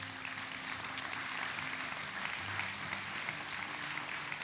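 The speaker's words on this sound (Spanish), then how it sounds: "Dale un fuerte aplauso a Jesús." A church congregation applauds in a steady, distant wash of clapping, fairly quiet, with a low hum of the room underneath.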